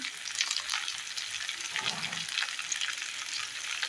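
Potato curry stirred and fried in ghee at home, a steady, close sizzle and crackle of frying with scraping stir sounds, no talking.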